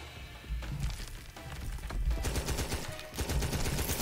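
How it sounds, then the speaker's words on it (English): A hummus gun fires in the video game Nom Nom Apocalypse, a dense, continuous rattle of rapid shots layered over busy game audio, steady and loud throughout. "The hummus gun."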